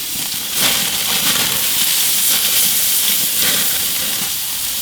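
Ribeye steaks sear on a hot grill at about 500 degrees, giving a steady loud hiss and sizzle that holds throughout with slight swells as they are flipped.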